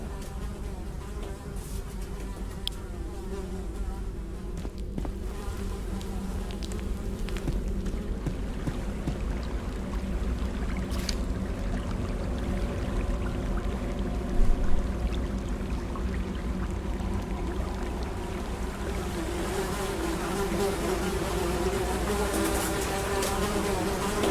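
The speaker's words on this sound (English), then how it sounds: "Despite the buzzing flies, you hear the faintest sound of rushing water" Buzzing flies in the video game The Secret of Weepstone, a steady droning hum that persists throughout, with faint rushing water beneath it.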